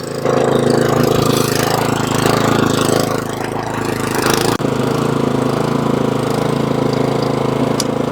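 A Toro Snow Master snowblower engine runs steadily at a loud, constant drone close by, with a brief knock partway through and no talking.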